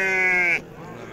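A single loud, drawn-out sheep bleat at the Khamis Timahdit livestock market, fading after about half a second into quieter background market noise.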